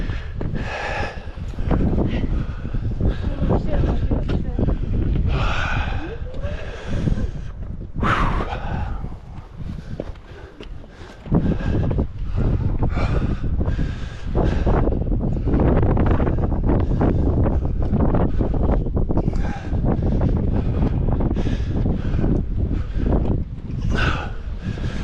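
Strong, gusty wind buffets the microphone high on the exposed Angels Landing trail, a loud, steady roar that briefly dips before surging back.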